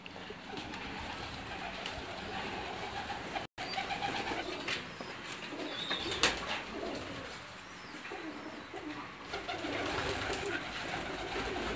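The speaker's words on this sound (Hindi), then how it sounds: "कुछ चंद ब्रीडर कबूतर हैं" Breeder pigeons coo on a rooftop in Kharian, with soft repeated coos and faint chirps over a low outdoor background, plus one brief dropout partway through.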